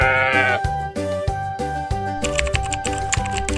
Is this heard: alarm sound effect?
no